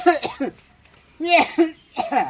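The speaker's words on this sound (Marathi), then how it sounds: "खोकलो येता कसो रे तुका" A man with a cold coughs a few times in short, close bursts, mixed with brief speech and chuckling nearby.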